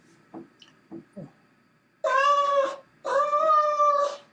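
Two drawn-out cat meows, loud and close, following a few soft knocks or taps in an otherwise quiet space.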